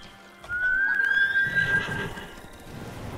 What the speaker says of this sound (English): horses up there, right?